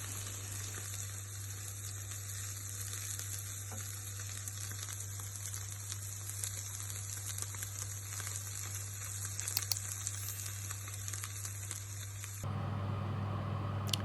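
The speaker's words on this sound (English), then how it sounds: "Fry the onions until lightly golden" Onions fry in a pan with a quiet, steady sizzle and occasional small crackles, heard alone beneath a constant low hum that shifts near the end.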